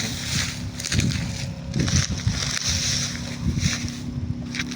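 A water pump runs steadily outdoors, drawing water to irrigate coconut trees, a continuous low mechanical drone with hiss and some wind noise across the whole stretch.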